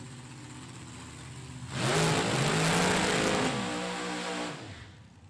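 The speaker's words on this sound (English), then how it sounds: "two loud cars paired up here" Loud drag racing cars rev hard and roar together, swelling suddenly after a quieter idle and holding a heavy, rumbling growl before easing off.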